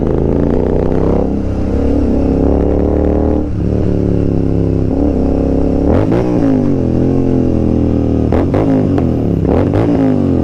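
A motorcycle and a Honda Activa scooter with its silencer removed ride together on a long highway trip, engines loud and raspy, revving up and easing off in repeated surges as close passes come and go.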